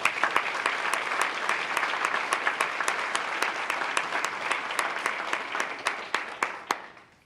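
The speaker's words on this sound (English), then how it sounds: "Let's give them a round of applause." An audience at a graduation ceremony for a corrections class gives steady, dense applause with sharp individual claps standing out, and it thins toward the end.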